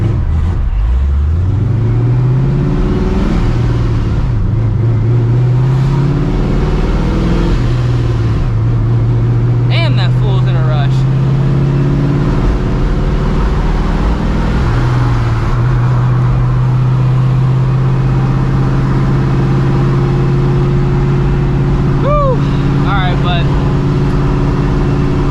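A cammed, supercharged 1999 Ford Mustang GT with 3.55 gears accelerates hard, its loud, lumpy engine note climbing through gear changes before settling into a steady drone, with brief talk over it.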